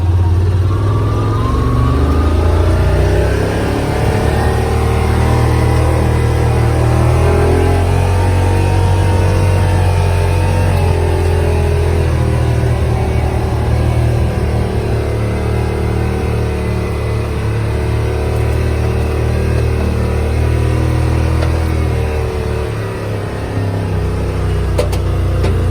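Yamaha Rmax side-by-side in low-range crawl mode, its engine humming and revving steadily and loudly throughout while driving on a trail, with no talking.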